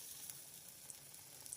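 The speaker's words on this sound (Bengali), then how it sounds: "একটু কালো জিরে, নুন, জোয়ান দিয়ে ভালো করে ফেটিয়ে গরম গরম ভাজা" Eggplant slices coated in a besan and rice flour batter with nigella seeds, salt and ajwain fry in hot oil, giving a quiet, even sizzle with small crackling pops.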